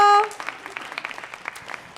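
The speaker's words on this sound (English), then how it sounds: "Also give a round of applause for Olivia," Audience applause at a Boston poetry reading, scattered, uneven claps after a brief tonal sound at the start, moderately loud and patchy rather than a dense roar.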